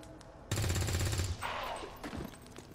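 A gunshot fires in the XCOM 2 video game: a sudden loud blast with heavy low-end boom and rattling burst that holds for about a second, then decays into a fainter tail of in-game effects.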